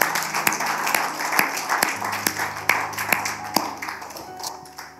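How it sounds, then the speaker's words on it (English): A church congregation gives a scattered hand clap, a loose run of sharp claps with uneven rhythm that builds briefly and then thins out, with a low sustained organ or keyboard tone underneath. "Why don't we give them a hand clap?"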